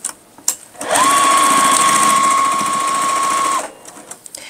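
A sewing machine runs in one steady, continuous burst of about two and a half seconds while stitching the seams of a starry pumpkin quilt block. The motor whirs loud and close, with brief handling sounds before and after.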